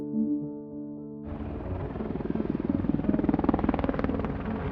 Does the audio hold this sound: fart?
no